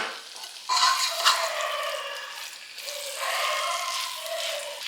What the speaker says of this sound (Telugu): ఈ రైస్ మొత్తాన్ని స్లోగా మనము గ్రేవీలోకి మిక్స్ చేసుకుందామండి